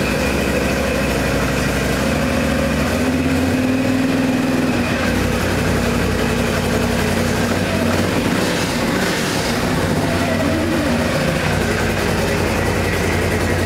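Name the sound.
Renegade engine starting and running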